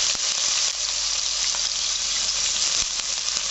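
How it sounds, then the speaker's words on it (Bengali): Chopped onion hits hot oil in a pan that already holds garlic and a pinch of asafoetida, for a fried ridge gourd dish. A loud, steady, close hiss of sizzling runs throughout with no voices. "এবার আমি পেঁয়াজ কুচিটা দিয়ে দিলাম।"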